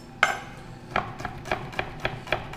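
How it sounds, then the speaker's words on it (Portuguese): A knife chops garlic on a board in a home kitchen: about eight crisp, evenly spaced knocks, close and fairly loud, with no talking. "a gente vai picar o alho"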